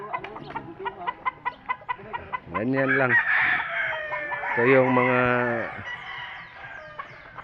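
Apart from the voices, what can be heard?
chickens clucking and rooster crowing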